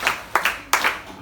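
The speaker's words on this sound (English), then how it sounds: "Clap for her." A handful of sharp, separate hand claps in a classroom during a mathematics lesson, a few uneven beats close to the microphone over a quiet room.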